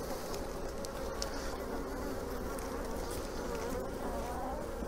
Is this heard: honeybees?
yes